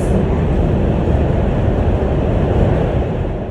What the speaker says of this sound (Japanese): 普通に地下鉄に乗ったはずなのに、それとは思えないレベルの騒音がまき散らされていまして